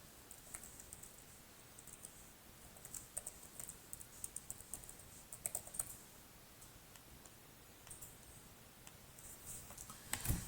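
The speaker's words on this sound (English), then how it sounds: "laptop type keyboard typing experience, I think I definitely need to get used to the layout a little bit" Typing on a Lenovo Slim Pro X laptop keyboard: a quiet, steady run of soft key clicks and taps, close by, with a few louder strokes toward the end.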